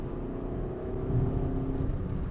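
Engine and exhaust of a VW Golf GTD, a 2-litre hatchback fitted with downpipes, give a steady, close rumbling drone under load with no talk.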